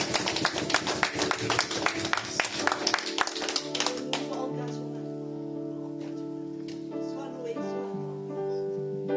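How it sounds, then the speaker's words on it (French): Church congregation clapping during a Sunday worship service, a dense run of hand claps for the first few seconds that stops as sustained music or singing takes over. "on applaudit notre Seigneur"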